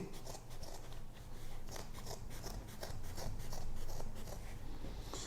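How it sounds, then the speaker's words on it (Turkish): Close scissors or a blade repeatedly snipping through soft, fibrous insulation felt, a steady series of crisp cutting crunches with no talking. "Şimdi ben biraz izoton keçesini keseceğim arkadaşlar."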